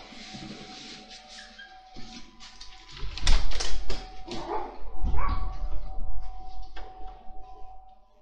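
A dog barks and whimpers indoors in a series of close, sharp barks with whiny yips between them, growing louder and more insistent through the middle.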